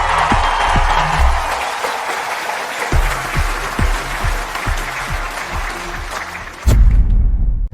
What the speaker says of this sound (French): Applaudissons chaleureusement son créateur, le designer de génie, Mademoiselle Lily Smith.